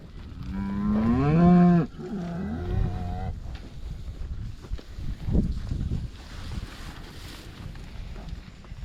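A cow lets out a long, loud moo followed by a second shorter one, then wind buffets the microphone with faint rustling and distant sounds.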